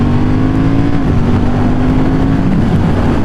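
A Honda Hornet 750 motorcycle engine revving hard and accelerating in sport mode, a loud steady roar with a rising pitch that holds throughout, mixed with wind rush.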